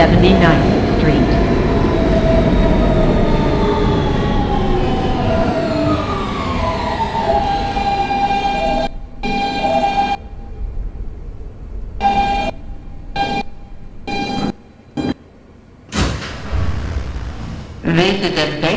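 The motors of an R160B Siemens subway train on New York's W line wind down as it slows, with a falling whine over rumbling rails, then repeated abrupt near-silent gaps as the car comes to a stop.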